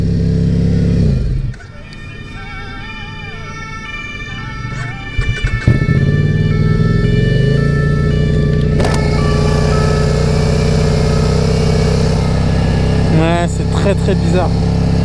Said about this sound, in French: des fois j'ai mon ralenti qui monte à 4000